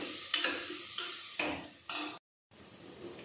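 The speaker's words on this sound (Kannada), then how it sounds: "ಸೊ ಇದು ಚೆಂದಾಗಿ ಫ್ರೈ ಆಗಲಿ." Vegetables with coriander powder and turmeric fry for paneer pulao in a pressure cooker, with steady sizzling broken by several stirring scrapes, briefly cut to silence before the frying resumes.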